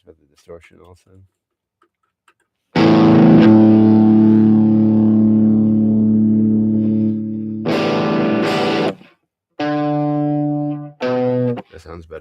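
A sustained, harmonically rich electric guitar tone with heavy distortion and feedback rings out during a live practice cover, followed by two shorter bursts of gritty chords with brief gaps between them.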